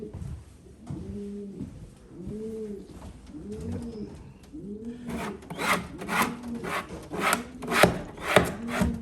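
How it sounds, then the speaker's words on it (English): Rough scraping on a surface, likely wood, in a Florida morning setting while preparing a spot for a homing pigeon trap; rhythmic rasping strokes come up loud in the second half, with pigeons cooing steadily nearby throughout. "Let me scrape this off a little bit more."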